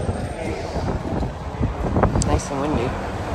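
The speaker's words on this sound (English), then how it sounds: "Windy. Nice breeze, I should say." Steady, broadband wind noise buffets the microphone throughout, with a faint rumble and some distant background activity beneath it, near the Piazza di Spagna in Rome.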